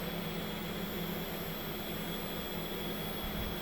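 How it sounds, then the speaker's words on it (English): A loud fan runs steadily with a constant broadband whoosh and a low steady hum, unchanging throughout and close by. "Hope it's not too loud with this fan going."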